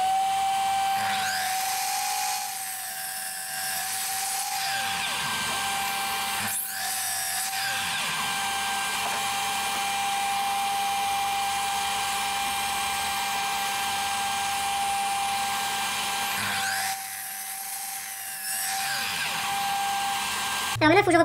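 A power saw whines steadily while making a first cut through a wooden batten during restoration of an old wooden cart, loud and close, with brief changes in pitch as the blade bites.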